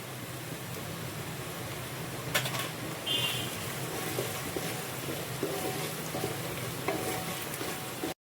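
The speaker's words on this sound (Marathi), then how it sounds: "आपला कांदा सोनेरी रंगावर भाजत आलाय तोपर्यंत आपल्याला थोडीशी हळद टाकायची आहे याच्यामध्ये" Onions fry to golden brown in a pan with a little turmeric added, a continuous sizzle with soft stirring scrapes throughout, close and fairly even.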